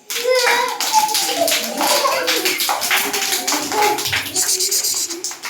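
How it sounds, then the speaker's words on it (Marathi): A group of children clap loudly together in a dense, continuous burst of hand claps, close by, with children's voices heard underneath. "आता जोरात टाळ्या वाजवा."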